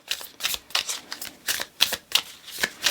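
Tarot and oracle cards shuffled by hand at a tarot reading, giving a series of crisp riffling bursts in an irregular rhythm, close and clear with no talking.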